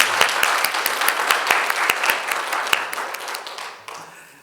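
Church congregation clapping during a Sunday service, with sharp individual claps standing out over a broad wash of applause that thins and fades at the end.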